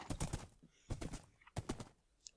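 Horse hooves clop on the ground while riding a horse in the video game Minecraft, three quick clusters of soft thuds, quiet and close, with no talking.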